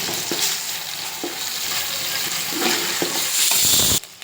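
Ginger paste is stirred into golden fried onions in a hot pan, producing a busy sizzle broken by scraping spoon strokes against the pan. It grows louder near the end, then cuts off abruptly.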